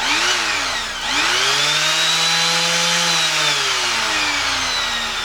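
A Makita BO5041 orbital sander whines loudly and continuously, its pitch dipping briefly then rising and holding steady as the motor runs.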